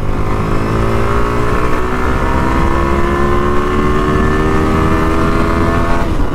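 Yamaha R15 V3 motorcycle riding on a highway, its engine droning steadily and loudly throughout with a sustained rising-pitch whine and rushing wind, no voices.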